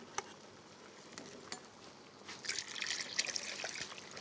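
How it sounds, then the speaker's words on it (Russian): Cold water trickles and splashes over boiled eggs in a container, starting with a few faint drips and building into a steady pour. "Залью их холодной водой."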